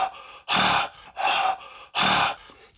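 Heavy breathing close into a microphone, three loud breaths in a steady slow rhythm, each a broad rushing huff separated by short pauses, with no talking.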